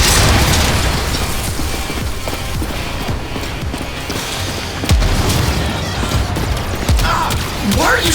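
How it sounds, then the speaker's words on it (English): Loud, dense video game combat with continuous gunfire and booming explosions amid rogue robots and tumbling debris, a heavy wall of sound with sharper blasts breaking through. "Why are you shooting at me?"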